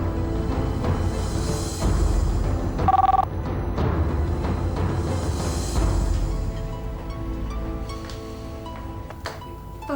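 A telephone rings in an Indonesian drama scene, a short bright ring burst standing out briefly amid a busy background of music and room sound.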